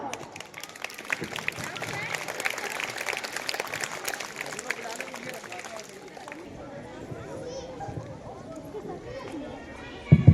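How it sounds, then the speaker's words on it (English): Dense, steady applause from a school prize-giving ceremony crowd fills the first six seconds, then fades into quieter room noise and murmuring. "give a big round of applause"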